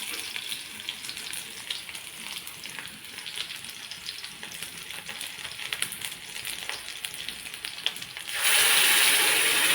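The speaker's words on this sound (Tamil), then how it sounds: "வெங்காயம் நல்லா வணங்கட்டும்" Onions frying in a pan, a steady close sizzle with soft stirring scrapes throughout, swelling suddenly louder and brighter near the end.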